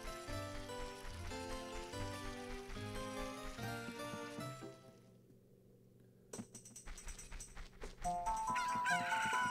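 Gentle in-game melody from Ocarina of Time plays, fades to near silence, then a Cucco bursts into a crowing call, with brighter sounds rising toward the end.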